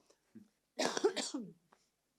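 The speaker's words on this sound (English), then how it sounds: "sorry, I'm going to cough" A single adult cough bursts out in a quiet room during a conference talk, a short harsh cluster of throaty hacks preceded by a small throat sound and followed by silence.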